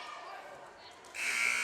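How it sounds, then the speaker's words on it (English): A loud electronic buzzer sounds at the end of a high school varsity wrestling match against Shamokin Area, cutting in sharply and holding steady over gym crowd noise. "And at the buzzer"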